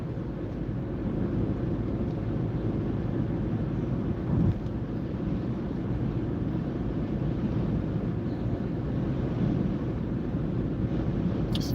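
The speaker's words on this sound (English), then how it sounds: "It's very windy today," Strong wind buffets a car on a four-lane thoroughfare, a loud, continuous low roar with rumbling gusts and no talk.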